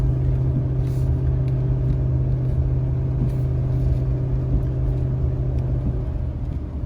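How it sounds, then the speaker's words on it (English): Steady low engine rumble from a 2019 Ford F-450 Limited pickup towing 34,000 lbs over hills, a constant droning hum with no breaks, loud and close. "Truck just plugs along."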